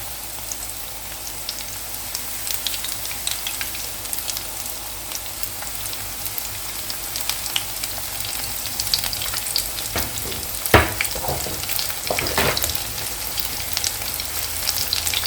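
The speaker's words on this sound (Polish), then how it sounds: "I zaczynam smażyć krążki." Panko-breaded onion rings fry in hot oil with a continuous crackling sizzle, steady throughout with a few sharper pops partway through.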